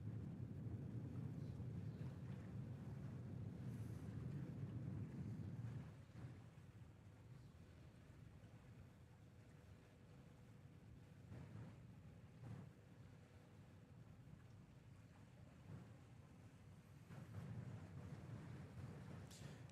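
Waves on a high river washing near Reagan National Airport as boats pass, a soft rolling surge mixed with wind that swells at the start and again near the end.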